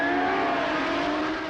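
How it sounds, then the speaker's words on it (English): Mid-1960s Formula One cars, including a Honda, howl at the start of the 1965 Dutch Grand Prix at Zandvoort, a loud continuous blare of high-revving engines with no voices over it. "Richie Ginther with the Honda leads down towards the Tarzan hairpin"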